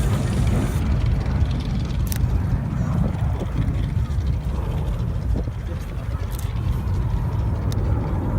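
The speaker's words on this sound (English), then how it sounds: "gentlest of touchdowns by Peter at the controls of the B-17" A B-17 bomber touches down at Duxford, a steady low engine rumble rolling on throughout, with a commentator's voice over the noise.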